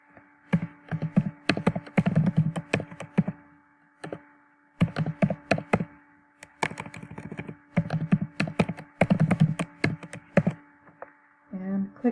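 Bursts of rapid key clicks as a password is typed on a computer keyboard, coming in several clustered runs separated by short pauses, close and fairly crisp.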